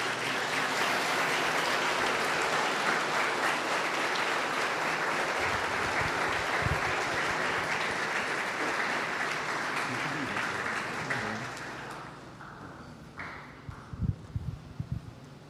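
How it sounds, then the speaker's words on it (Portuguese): A church congregation at a pastor's installation service applauds in a long, dense burst that fades after about twelve seconds, leaving scattered thumps and faint voices. "Aplauda o Senhor Jesus pela vida do pastor Orlando."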